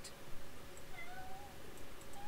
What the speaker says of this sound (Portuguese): O gato disse. Miau.